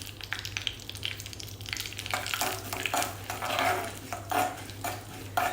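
Urad dal for a coconut chutney tempering fries in a little oil with mustard seeds, giving a steady close sizzle broken by repeated stirring scrapes and light clinks of a utensil in the pan, with no talking.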